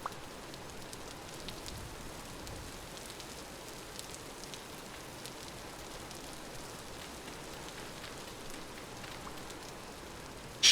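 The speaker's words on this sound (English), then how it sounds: "it's raining, so therefore the torch won't stay" Steady rain falls in the survival video game Vintage Story, a constant even hiss with faint scattered drop ticks running throughout and no other sounds over it.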